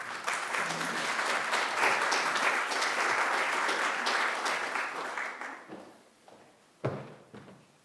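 A lecture-hall audience applauds steadily for about six seconds to welcome a speaker at a talk and book presentation at SOAS in London, the clapping dense and sustained before thinning out, with a single thump near the end.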